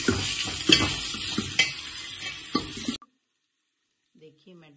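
Beetroot puree mixed with ground tomato is stirred into a hot sizzling pan while making South Indian rasam, with steady frying hiss and scraping stirs for three seconds before cutting to near silence with faint voice.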